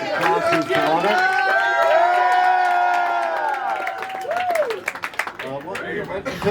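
A studio audience cheers and applauds loudly and continuously, with a long voiced whoop rising over the crowd before the noise breaks into scattered claps and shouts.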